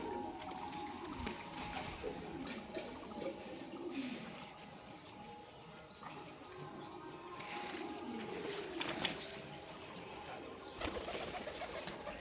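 Pigeons in a loft, a mix of satin, lotan and local birds, coo softly and repeatedly with some shuffling and wing sounds, moderately faint against a busy background.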